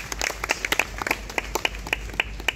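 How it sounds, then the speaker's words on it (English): Sparse, distinct claps from a small audience at an Independence Day 2022 ceremony, honouring the senior under officer of the Boys Regiment; individual hand claps ring out at uneven intervals over a low steady hum, fairly quiet and without talk. "please give a round of applause to Atharva Bhange"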